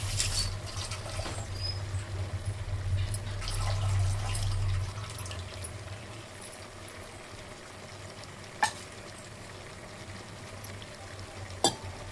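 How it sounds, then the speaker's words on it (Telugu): Masala sizzles and fries in ghee for chicken biryani, a steady close crackle with light stirring, softening midway, with a couple of sharp knocks of a utensil near the end. "దీనికి వేయాల్సినటువంటి మసాలా నేతిలోనే వేయించుకోవాలండి. ఇప్పుడు వేయించుకుంటున్నాను"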